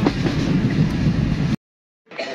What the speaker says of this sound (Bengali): ট্রেন স্টপ হয়ে গেছিলো, এখন আবার চলা স্টার্ট হয়ে গেছে